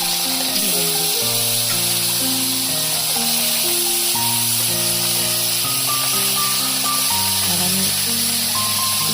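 Mullet fish fry in oil in a wok, giving a steady, loud hiss and sizzle throughout with no breaks, while melodic background music plays on top.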